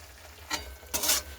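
Curry is sautéed with Kashmiri chili powder for deem palong (egg and spinach) curry: a low sizzle under two sharp, close stirring scrapes, the second longer and louder, with no talk.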